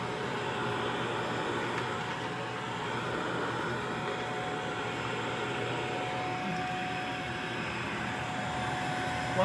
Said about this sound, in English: What actually happens if you vacuum up a quarter?